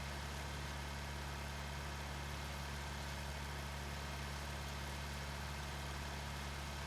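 Tractor engine in Farming Simulator 19 holding a steady low idle-like drone, continuous and even throughout with no talk over it.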